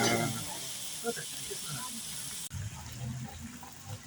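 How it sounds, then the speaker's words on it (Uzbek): Water pours and splashes into a pot of kavurma shurva, an Uzbek meat soup, over a high flame, a soft continuous gurgling rush heard alongside a speaking voice. "Sho'rvamizga suvni qo'ydik."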